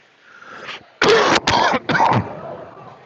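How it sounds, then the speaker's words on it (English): Three harsh, loud coughs follow in quick succession, close to the microphone, after a brief quieter rasp, during live hockey commentary. "Sorry for the cough."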